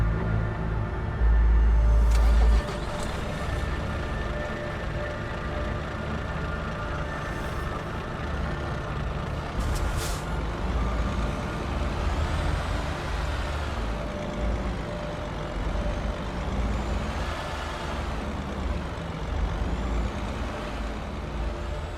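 A BharatBenz tourist bus drives onto the stage at a vehicle launch showcase, with a sustained loud diesel engine rumble, an air brake hiss and mechanical whine, and no voices.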